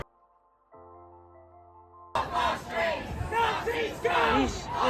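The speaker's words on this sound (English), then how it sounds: "And people are booing his flag." At a street protest in Brighton, a crowd boos and yells at a man holding an England flag. The shouting swells up loudly partway through, after a short stretch of synthetic-sounding tones, and continues as a dense, rising mass of voices.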